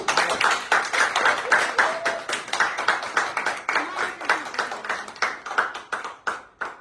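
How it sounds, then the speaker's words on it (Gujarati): Rhythmic hand clapping from a small group at a home party, steady beats through the whole stretch with faint voices underneath. "તાળી પાડજો."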